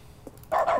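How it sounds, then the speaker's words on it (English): A dog barks once in The Stanley Parable, a short, loud bark with a noticeable echo trailing after it. A faint quieter yip comes just before it. "There's an echo on the dog bark."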